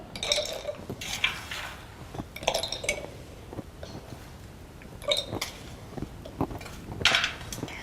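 Hard pieces clatter and clink into a container in several bursts, sharp rattling hits scattered over a few seconds, fairly close with no talking.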